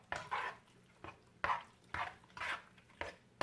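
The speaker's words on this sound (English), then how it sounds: "I'm just going to give that a quick little stir to get it mixed." Chickpea pasta being stirred in a pot with a utensil for chicken Alfredo, several quiet scraping and clinking strokes in an uneven rhythm, close but faint, with no voices.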